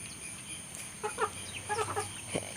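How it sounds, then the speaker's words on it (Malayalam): Giriraj and native chickens cluck in short, scattered bursts against a quiet background, a few hens calling close by in quick succession. "അഞ്ച് കോഴിയാണ് ഉള്ളത് അതിൽ മൂന്നെണ്ണം ഗിരിരാജ് കോഴി"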